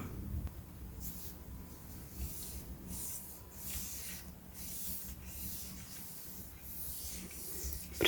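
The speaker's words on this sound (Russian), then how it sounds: "Протираем листья со всех сторон." Orchid leaves being wiped with diluted salicylic alcohol, a soft close rubbing and swishing that repeats in short strokes, with a faint hiss between them and no talk.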